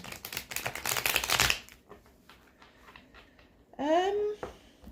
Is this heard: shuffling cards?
yes